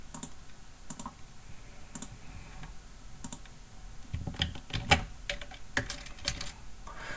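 Computer keyboard keys clatter in short irregular bursts, with scattered single taps and quick runs of clicks, close and fairly quiet in an otherwise still room.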